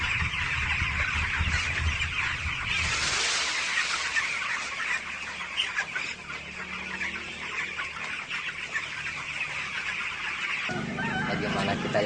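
Broiler chickens clucking inside a poultry house holding thousands of birds, a constant busy chorus of overlapping clucks and squawks close by, with a louder burst of calls partway through.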